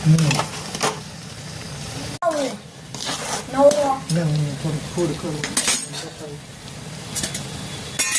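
Halwa being stirred in a pan as sugar is mixed in, with a spoon clinking and scraping against metal in short bursts, close by, over steady kitchen background noise.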